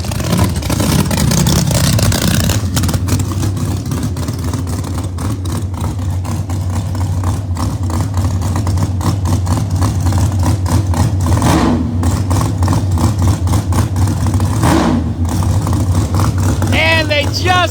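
Pro Mod drag cars, Frankie's Corvette among them, rev and rumble at a Bradenton race meet, loud and continuous with engines rising and falling, sharp revving bursts near the end and a voice talking over them.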